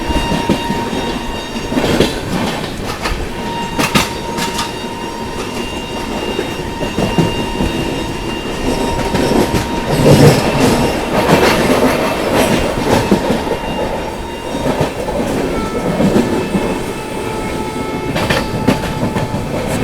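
Amrit Bharat Express passenger train 22361 to Patna rolls steadily along the rails in heavy rain, with a continuous rumble and clickety-clack of the wheels and a faint, brief horn blast or two.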